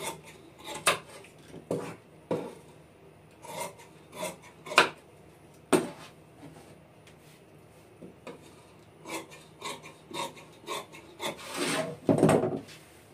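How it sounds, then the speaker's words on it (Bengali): Scissors snip and scrape through fabric on a table while cutting out women's pajama pants to a marked shape, with irregular crisp cuts and rustling strokes repeating across the stretch, close and fairly quiet. "এই শেপ অনুযায়ী এই কাপড়টা কাটিং করে নেব"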